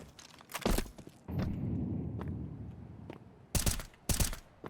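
An incendiary grenade thrown in Counter-Strike 2 lets out a short release and then a broad, steady roar of flames that burns for about two seconds. Sharp gunshot-like bangs come before and after it.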